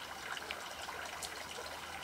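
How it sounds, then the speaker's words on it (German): Water trickles out of a tipped vessel in a thin, continuous stream, heard close and fairly quiet with a light splashing texture throughout and no talking. "Wenn ich jetzt so tue, dann rinnt das Wasser raus."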